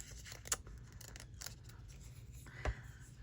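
Scissors snip paper during a journaling session, giving two or three short, quiet crisp cuts spaced apart over faint room hush, with no voice.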